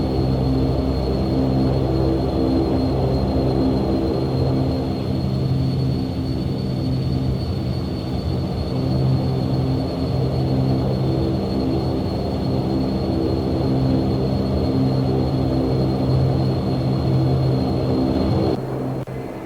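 Steady, droning turboprop engines of a simulated Dash 8 Q400 airliner in Prepar3D hum loudly and continuously with a constant high whine on top, cutting off abruptly near the end.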